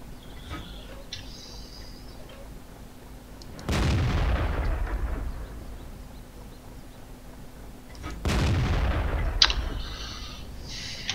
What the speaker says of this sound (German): die schießen jetzt halt wie die Verrückten auf mich